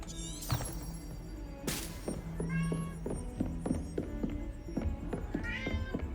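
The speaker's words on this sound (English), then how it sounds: "Oh, that would be Charlie meowing." A pet cat named Charlie meows several times indoors, short rising cries scattered among soft thumps and clatter, fairly faint and with no one talking.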